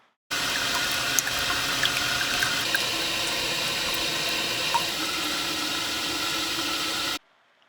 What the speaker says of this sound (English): These 2 submersible fountain pumps have a max flow rate of about 80 gallons per hour.